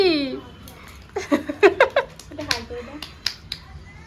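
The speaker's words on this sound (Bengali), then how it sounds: "হাততালি হাততালি" A few quick, sharp hand claps in a row at a family meal at home, close and light, with a child babbling and an adult talking around them.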